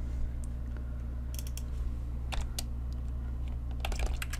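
Keys clatter on a computer keyboard while Excel VBA code is written, in short irregular clusters of crisp clicks over a steady low electrical hum, with no talking.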